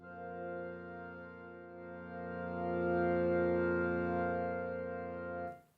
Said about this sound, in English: because the woodwinds sound like this.